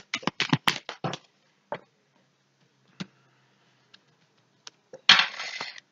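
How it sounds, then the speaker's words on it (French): Five tarot cards are drawn, giving a cluster of quick light taps and card clicks near the start. Sparse soft ticks follow through a quiet stretch, then a brief rustling shuffle at the end. "Allez, je vais aller prendre 5 cartes."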